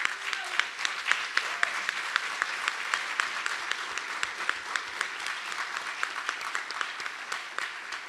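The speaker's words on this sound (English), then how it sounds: "let's give them a round of applause." Audience applause at an event honoring Oscar López Rivera, sustained dense clapping with sharp individual claps standing out, steady across the whole stretch.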